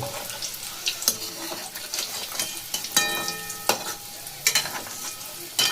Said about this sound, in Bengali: একদম মিডিয়াম টু লো ফ্লেমে ভাজতে হবে এগুলোকে, হাই ফ্লেমে একদমই যাবে না।